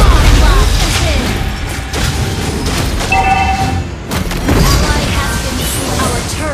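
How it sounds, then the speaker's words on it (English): Mobile Legends game audio as a turret is destroyed, a dense mix of crashing impacts and booms layered with electronic effects and game announcer voice lines, loud and busy throughout. "Your team destroyed the turret!"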